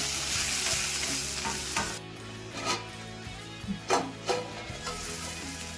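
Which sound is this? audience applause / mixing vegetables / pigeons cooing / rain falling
mixing vegetables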